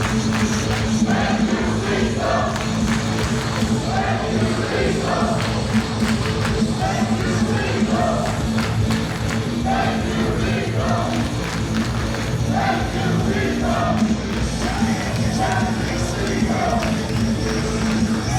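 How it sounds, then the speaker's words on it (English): A wrestling crowd in Norfolk cheers and applauds a match winner, a continuous roar of voices and clapping with scattered shouts, loud and sustained throughout, with some talk mixed in. "this crowd in Norfolk showing their admiration and appreciation for Jay Lethal"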